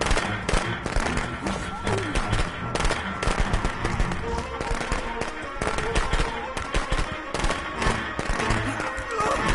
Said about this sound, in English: You kids, stop using those fireworks when it's not 4th of July.